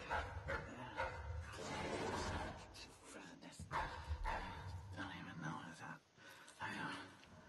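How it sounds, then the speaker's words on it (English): Growling, bark-like calls from a beast in the video game Dishonored 2, a dog-like creature, come in uneven bursts mixed with someone talking over the game audio. "It sounds like a dog."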